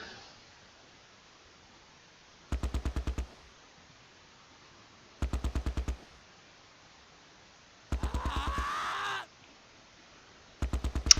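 An MG42 machine gun in the wartime strategy game Close Combat: Last Stand Arnhem fires four distinct, evenly spaced bursts of rapid rattling shots, each under a second long, over near silence, with one burst overlapped by a brief rushing noise.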